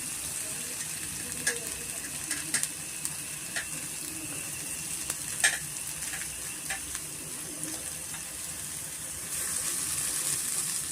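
Crushed onions fry in butter over a medium flame for a palak chana curry, a steady close sizzle with occasional clicks and stirring sounds and a brief gush of water near the end.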